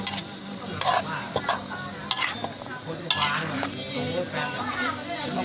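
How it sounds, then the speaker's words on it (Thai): Cabbage and broccoli being stir-fried in a pan: a soft sizzle runs underneath close, sharp clicks and scrapes of a utensil against the pan, with a voice speaking briefly. "ผัดผัก กะหลำขาวบล็อก"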